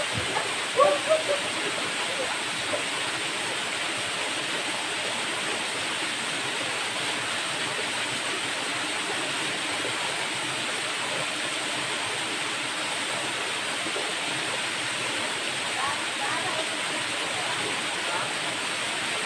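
Steady, dense roar of a waterfall in Siquijor fills the scene, a constant broadband rush heard close and loud without pause, with a few faint knocks at the start.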